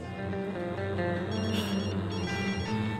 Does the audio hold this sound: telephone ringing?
yes